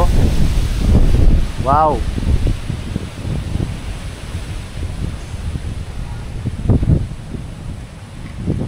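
Strong gusting wind roars across the microphone in Tagaytay, a steady low rumble and buffeting that fills the whole clip while a person speaks briefly over it.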